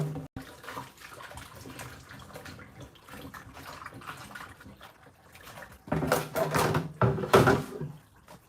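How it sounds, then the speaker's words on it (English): Raw yams rinsed under a running kitchen tap for Nigerian yam porridge: a soft, steady water stream for several seconds, swelling into louder splashing and gushing near the end, with no talking. "Let's go ahead and wash our yams"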